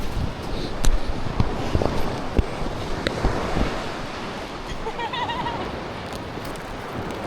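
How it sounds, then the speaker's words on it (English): Ocean waves surge and wash in steadily on a beach at Ningaloo, broad rushing noise with wind buffeting the microphone, loud and continuous with a few brief voices in the background. "Watch out the waves behind you."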